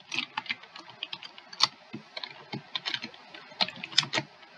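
Rapid, irregular clicking of computer keyboard keys as code is typed, close and steady throughout with short bursts and brief pauses, no voices.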